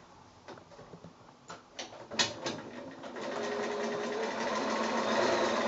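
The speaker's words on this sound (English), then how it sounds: "I'm just going to sew now on the lining fabric close to both folded edges" A sewing machine stitches lining fabric for a quilted snap bag, starting with a few soft clicks and knocks, then settling into a steady close whirring run.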